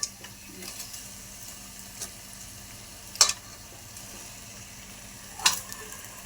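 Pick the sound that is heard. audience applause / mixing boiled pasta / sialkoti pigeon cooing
mixing boiled pasta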